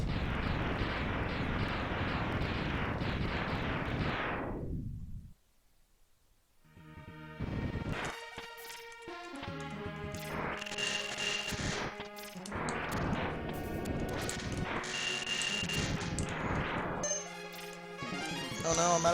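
Weapon fire rings out against a boss in Mega Man X, with dense repeated blasts and explosive bursts over loud game music, broken by a brief near-silent gap before the shooting resumes.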